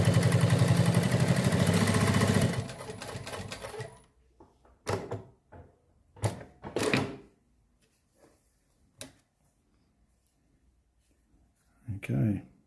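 A Prosew PS-1933B walking foot sewing machine runs a test seam in a loud, steady mechanical burst at the start, followed by scattered clunks and handling noises while a person talks.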